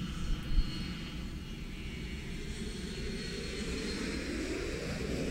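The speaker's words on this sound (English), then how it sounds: "shuttle carrier aircraft that you see is taxiing behind it with Shuttle Endeavour atop" Shuttle carrier aircraft taxiing with Space Shuttle Endeavour mounted on top: a faint, distant, steady engine rumble and whine that holds level throughout.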